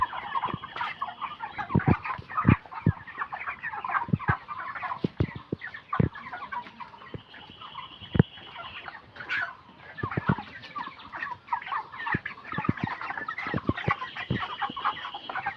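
A flock of 29-day-old broiler chickens on a poultry farm clucks and chatters, with many short overlapping calls and sharp pecking clicks scattered irregularly, moderately near and fairly quiet, with no speech.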